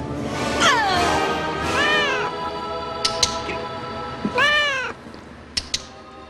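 A cat from the Disney film Hocus Pocus meows repeatedly, with drawn-out, wavering yowls near and loud, and a few sharp clicks and knocks between the cries.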